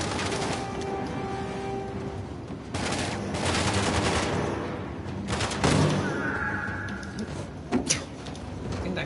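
Gunfire in Uncharted: The Lost Legacy, a video game: dense bursts of shots and automatic fire stacked over a steady battle din, with sharper nearby cracks near the end.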